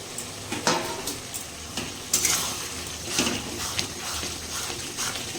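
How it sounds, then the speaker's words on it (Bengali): Meat cooked down with spices in a pan, with tomato being added, gives a steady background sizzle. Spoon or utensil scrapes and clinks against the pot repeat at irregular intervals, close and fairly loud, with no talking. "এখানে মাংস মশলা কষানো হচ্ছে"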